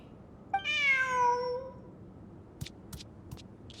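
A cat meows once in the video game Genshin Impact, a clear, close, drawn-out tonal meow that falls in pitch, followed by a few soft clicking taps and no speech.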